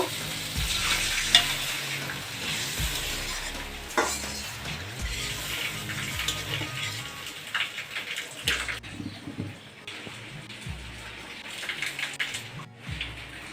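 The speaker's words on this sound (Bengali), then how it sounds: "ডিম কষানো হয়ে গেছে এখন আমি অল্প জল দিয়ে দেব" Egg masala fries and sizzles in a pan as a little water is added, with steady hissing, spoon stirring and scraping against the pan, and occasional clinks of utensils, close by with no talking.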